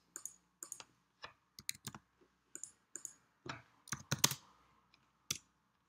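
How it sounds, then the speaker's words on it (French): Mouse clicks and computer keyboard taps while working in a text tool, sounding as short, sharp, close-up ticks in irregular clusters separated by brief pauses, with no voices. "je clique, je tape mon premier mot, donc le, je clique ailleurs, je reclique"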